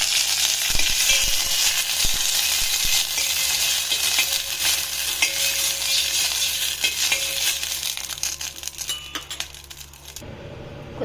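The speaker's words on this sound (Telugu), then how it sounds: "నెక్స్ట్ ఎండుమిర్చిని కూడా కొద్దిగా ఆయిల్ వేసి వేయించుకోవాలి" Dried red chilies fry in a little oil in a pan, giving a steady close-up sizzle with scattered clinks and stirring scrapes throughout, fading out near the end.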